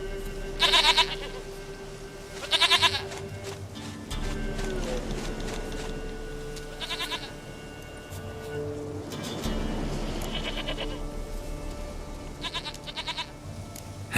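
A goat in the video game The Witcher 3 bleats several times in short, wavering calls, spaced apart over a steady low ambient drone and soft background noise.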